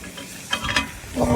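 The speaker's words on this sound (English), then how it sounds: "You can hear it sizzling." Pumpkin soup sizzles in a pot over a campfire while being stirred, a brief close, crackling hiss that swells and thickens toward the end.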